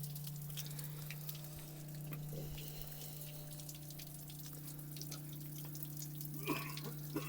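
Water leaking from a homemade aquarium fitted into a tractor, a quiet, steady trickle and faint dripping over a constant low hum, with small splashes near the end.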